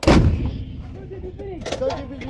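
A single artillery gun fires during a live-fire exercise with US and Philippine Marines, giving one loud, close blast. Its rumbling echo decays as voices call out over the fading boom.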